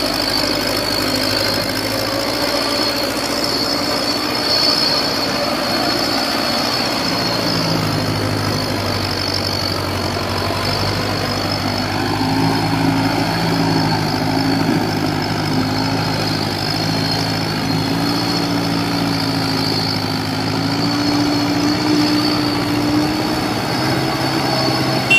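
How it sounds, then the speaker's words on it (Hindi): A Sonalika DI 55 tractor hauls a trolley loaded with red soil up a steep incline, its diesel engine droning loud and steady throughout, deepening and straining midway. "क्या पावर लगा रहा है ट्रैक्टर।"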